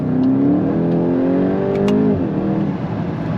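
A turbocharged 300-horsepower Volkswagen Golf 8 GTI Clubsport engine revs hard and climbs in pitch under load, then eases off with a brief turbo whoosh, loud and close.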